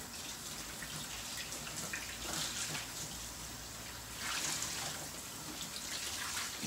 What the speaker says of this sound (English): and then rinse it out